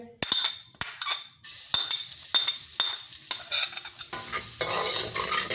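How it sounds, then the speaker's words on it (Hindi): Sharp clinks of a utensil against a pan, then a steady sizzle of ginger-garlic paste frying in hot oil, close by with no talking. "उसी ऑयल में हम लहसुन अदरक का पेस्ट डाल लेंगे"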